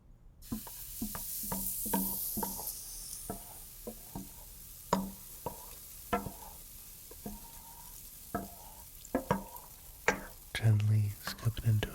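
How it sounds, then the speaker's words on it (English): Lemon ricotta pancake batter scooped into a pan and left to cook gently, heard as close, soft taps and scrapes in an irregular rhythm over a faint sizzle. "Gently scoop it into a circle and let it cook very gently."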